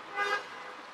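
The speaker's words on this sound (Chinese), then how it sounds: "几乎听到像这样按喇叭的声音" A car horn toots briefly on a street in Pingxiang, Jiangxi, one short moderately distant honk that swells and fades within a second over faint traffic.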